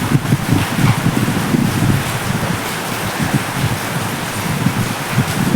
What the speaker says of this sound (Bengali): প্রচুর বৃষ্টি হচ্ছে প্রচুর মুসলধারে বৃষ্টি হচ্ছে